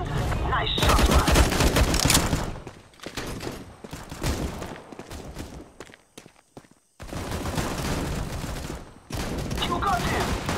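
Gunfire in the video game CS:GO, with bursts of shots and rapid fire in loud, dense stretches broken by short quieter gaps, plus some footsteps and faint voices mixed underneath.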